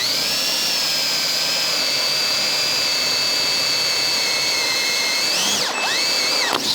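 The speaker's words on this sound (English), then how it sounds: "choose a pin, drill a hole" A power drill whirs steadily at high speed, loud and close, drilling a hole for a trailer pin, then briefly bogs down as the bit breaks and revs back up near the end.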